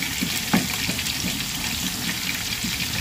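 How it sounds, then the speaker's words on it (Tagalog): Garlic and onion being quickly sautéed in a pan: a constant close, crackling sizzle with a few sharper pops and no voices. "gisa lang po natin yung ating bawang sibuyas"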